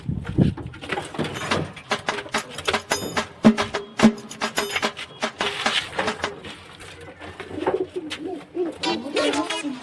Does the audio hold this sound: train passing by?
no